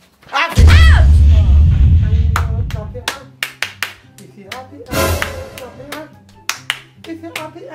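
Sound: children clapping hands to a song

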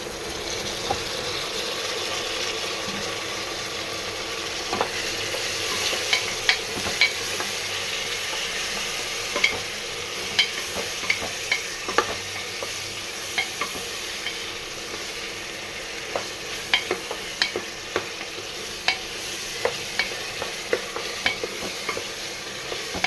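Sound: onions and tomatoes sautéing in a pan

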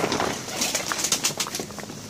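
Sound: pigeons cooing

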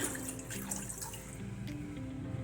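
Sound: pouring cold water into a bowl

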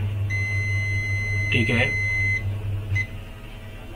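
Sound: circuit tester continuity beep

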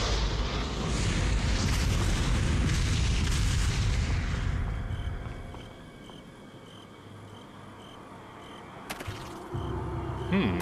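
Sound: explosion in video game Resident Evil 4 VR

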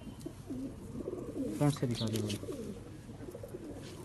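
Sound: antique pigeons cooing

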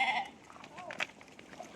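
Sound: sheep bleating while being watered

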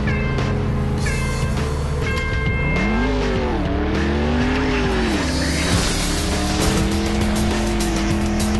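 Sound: car driving in video game Clutch

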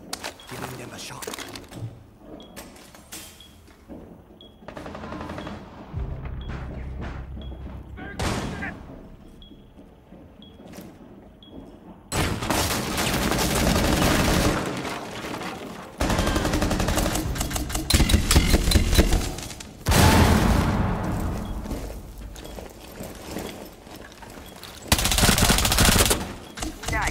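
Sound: gunfire in Rainbow Six Siege video game

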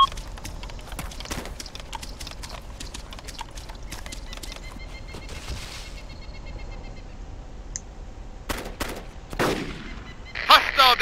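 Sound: machine gun fire in the video game Arma 2

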